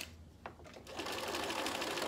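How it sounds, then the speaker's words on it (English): A sewing machine stitches a seam in barstool upholstery. A couple of soft taps come first, then a steady, close, whirring run of rapid stitching lasts about a second before stopping abruptly, with no voices. "Cut that seam and then go back and finish sewing along there."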